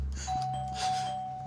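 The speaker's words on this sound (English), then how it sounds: "We heard the bell rang." Doorbell rings at a house in the evening, a single two-tone chime with a sustained ringing tone, moderately quiet and heard alone with no talk.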